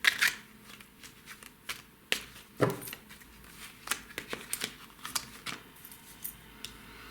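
Tarot cards are shuffled by hand close up, with repeated crisp riffling and slapping bursts in an irregular rhythm and quiet gaps between them.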